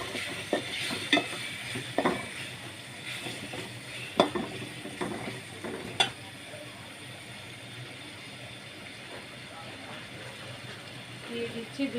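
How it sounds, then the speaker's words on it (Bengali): Beef bhuna with salt being stirred and fried in a pan, with a steady sizzle under repeated scraping strokes of the spoon that come in uneven bursts. "দিয়ে দিচ্ছি স্বাদ মতো লবণ, এখন কষিয়ে নিচ্ছি।"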